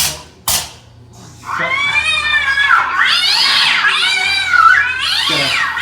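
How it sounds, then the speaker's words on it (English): Cat meows and drawn-out yowls sound in a haunted room of a wax museum at Niagara Falls. The cries are loud and close and come one after another with pitch sliding up and down, and a short sharp knock comes before them. "Got a fear of cats."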